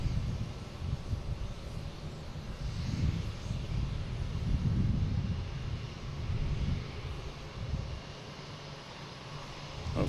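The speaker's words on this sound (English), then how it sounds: "next taking off, we have a American Airlines heading to Myrtle Beach" An American Airlines Embraer E175 jet takes off at Boston Logan, a broad steady engine roar with a swelling rumble, heard from a distance through some wind noise with no talk.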